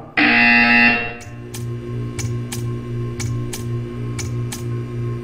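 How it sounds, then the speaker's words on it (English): Loud electronic buzzer in the Portal video game sounds for about a second, then gives way to a steady low hum with a regular series of short ticking clicks. "You will hear a buzzer."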